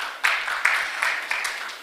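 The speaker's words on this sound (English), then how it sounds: "Please give them another big round of applause." Audience applause after the Ghost Doctor pitch by Chocolate Pictures at an online global pitching event, a steady wash of clapping with a few louder bursts, moderately loud throughout.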